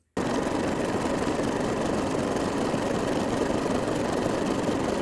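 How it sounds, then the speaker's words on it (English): A serger sewing machine overlocking a fabric edge for a dress, heard as a loud, steady mechanical motor drone that starts abruptly and runs unbroken and close throughout. "I'm going to make sure that I serge this edge first before attaching it to my bodice."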